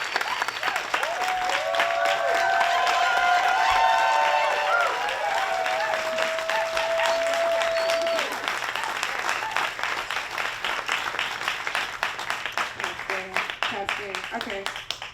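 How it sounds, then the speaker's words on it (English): Audience at a documentary film Q&A panel applauding, sustained loud clapping from a crowd lasting most of the span before tapering off, with a voice speaking near the end. "let's give a warm round of applause"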